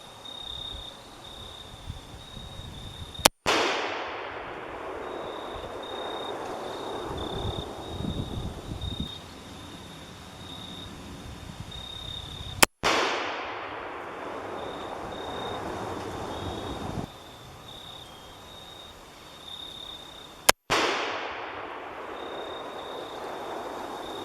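Three sharp, loud gunshots from a Thompson Center Contender pistol chambered in .358 Legend, fired outdoors at a range several seconds apart, each followed by a long echoing tail over quiet insect-like background.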